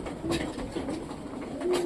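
Racing pigeons feeding in a loft, with soft repeated cooing calls over a steady low background murmur, fairly close.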